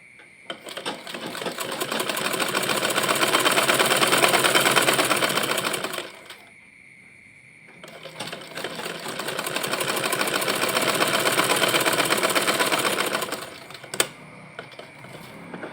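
A sewing machine stitches a hijab brim in two long, loud, close runs of rapid mechanical whirring, separated by a short quiet pause and ending with a sharp click.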